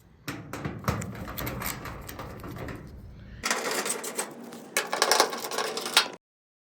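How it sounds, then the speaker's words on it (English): A tool backs out 6mm bolts from the side shield of a Maytag dryer in two bursts of rapid mechanical clicking and whirring, close and fairly loud, then stops abruptly. "This looks like it's about 6mm bolts that go around the side. Let's get those off."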